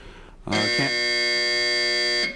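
A game show buzzer on To Tell the Truth sounds as one loud, steady electronic tone lasting nearly two seconds, preceded by a brief double pulse, close and alone.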